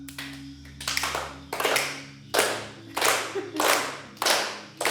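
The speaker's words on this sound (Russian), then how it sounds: "Давайте вместе со мной похлопаем в ладоши сейчас" A group clapping hands together in rhythm during a dance session, with about six broad, evenly spaced bursts of claps ringing out over a low background hum.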